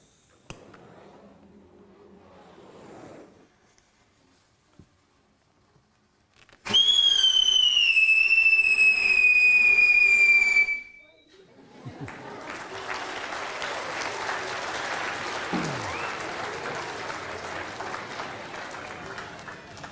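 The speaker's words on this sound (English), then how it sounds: "that's the pyrotechnic whistle" A pyrotechnic firework whistle screams loud and close for about four seconds, its piercing tone sliding steadily downward in pitch as it burns. Quieter voices come before it, and a broad hiss that resembles crowd noise or applause follows.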